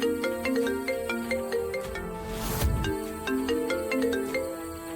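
A mobile phone ringtone plays a repeating melodic tune steadily throughout, with a brief louder burst of noise midway and no talk over it.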